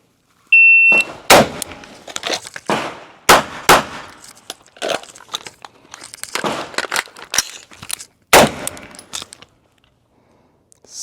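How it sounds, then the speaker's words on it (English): Sharp, loud pistol shots ring out in several separate bursts during a timed range drill, each crack followed by brief echo and handling noise, with quiet gaps in between. "So we missed both of those pistol shots"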